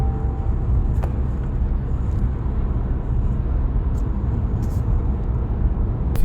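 A Haval H6 Hybrid in eco mode cruises near 100 km/h on a freeway, heard from inside the cabin as a steady low road and engine rumble with a few faint clicks and no talk.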